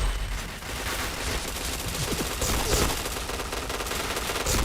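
Gunfire from a shooting video game, in the form of rapid automatic bursts that rattle almost without pause over a busy, loud mix of game sound. There is no talking.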